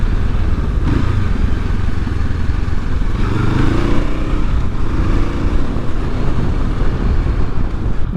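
A 2023 Honda CL500 Scrambler ridden along an open road, a loud continuous engine drone heavily buffeted by wind noise at the microphone, with slight dips in tone as gears change.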